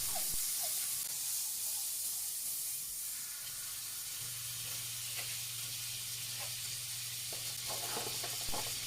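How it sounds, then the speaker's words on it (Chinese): Butter sizzles in a hot flat frying pan with a constant soft hiss and a few faint clicks, and a low hum joins partway through. "平底锅加热后放入牛油，均匀地涂抹在锅底。"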